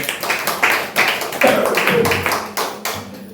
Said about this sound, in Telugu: చప్పట్లు కొట్టండి ప్రియులారా